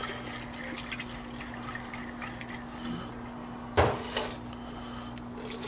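Tap water poured from a kettle over home-grown bean sprouts on a back porch, a faint splashing and trickling with a sharper splash of water partway through and a steady hum beneath.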